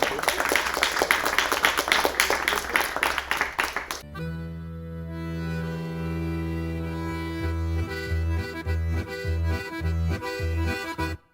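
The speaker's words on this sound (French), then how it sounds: "Donc déjà, on va t'applaudir." Brief audience clapping after a history presentation on enslaved and freed people of colour in 18th-century Bordeaux, scattered hand claps that stop abruptly and give way to sustained music.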